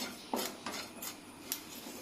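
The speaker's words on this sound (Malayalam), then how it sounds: "ഇനി ഇത് നല്ലോണം വറുത്തെടുക്കാം. വറുത്ത് നല്ലോണം കരി തന്നെ വേണം കേട്ടോ." A metal spoon scraping and clinking against a pan as ingredients are dry-roasted and stirred until charred for a homemade hair dye; four or five sharp, close taps spaced irregularly over a quiet background.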